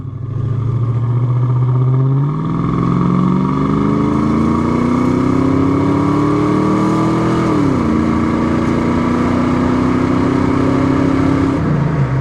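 A bone-stock 1990 Ford Mustang GT with a 5.0 V8 and automatic transmission accelerates hard on the road, its loud steady engine drone rising in pitch through the gears, with a brief drop at each shift.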